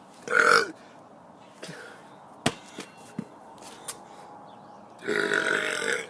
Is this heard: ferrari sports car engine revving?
no